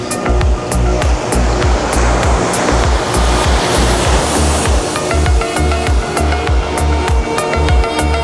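Surf washes onto the beach at Los Cristianos, Tenerife, in loud, continuous rolling waves with a constant rush of spray and repeated crashing surges, and no voices.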